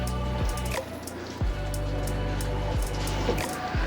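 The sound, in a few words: water dripping through stone at castle ruin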